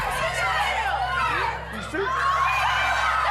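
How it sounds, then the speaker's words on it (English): Several people yell and shout over one another in a noisy room during a game show countdown, loud and continuous, with laughter mixed in. "You're all yelling"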